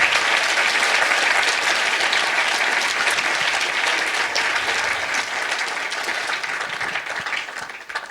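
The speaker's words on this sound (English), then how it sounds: "please give them a round of applause" Audience applause at the end of a debate, dense sustained clapping from a full room that holds loud and steady before gradually thinning out.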